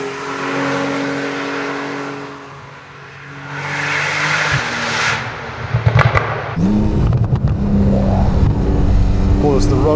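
A Techart GTstreet R, a turbocharged Porsche-based supercar, pulls hard on the road, its engine note rising and roaring louder toward the end while people talk inside the cabin over the rumble.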